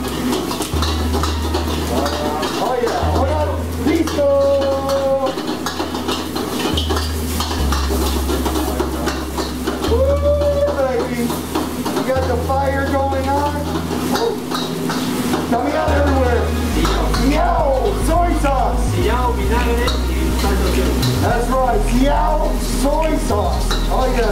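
Beef sizzles and is stirred in a hot pan with onion and yellow chili for Peruvian lomo saltado, a steady frying hiss with occasional scrapes and clinks, heard under ongoing talk and background music.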